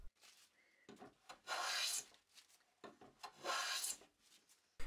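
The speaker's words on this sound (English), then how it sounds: "the taper could be planed smooth" Hand plane smoothing the taper of a wooden park bench leg: two long, rasping shaving strokes with shorter scrapes in between, close and crisp, each followed by a brief pause.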